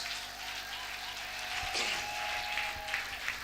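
Church congregation applauding for the glory of Jesus Christ at a prophetic gathering, a steady wash of clapping from a large crowd with a faint hum underneath and a few thumps.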